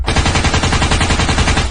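Rapid machine-gun fire from zombies shooting in a Hindi animated cartoon, a loud, dense, continuous burst of evenly spaced shots filling the whole moment without a break.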